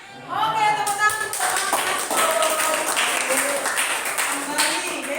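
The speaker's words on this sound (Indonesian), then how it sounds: "Oke, tepuk tangan." A classroom of students claps together in a lively, uneven patter after a short vocal lead-in, with voices mixed in as the clapping continues at close range.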